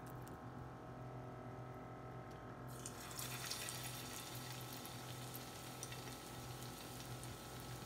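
Fish sizzling as it is fried in half a cup of hot oil, a steady loud crackle that swells broadly after a few seconds and holds continuously, with no talking.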